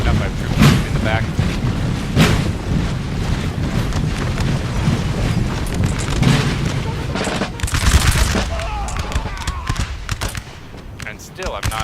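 Napoleon Total War battle gunfire from troops in a building, heard as dense continuous musket volleys and crackling shots with wind-like rushing noise, a voice talking over the din throughout.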